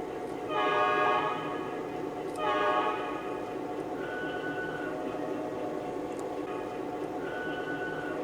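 A Lionel E9A model train horn sounds in two loud harmonic blasts, followed by softer sustained horn tones over a steady background rumble.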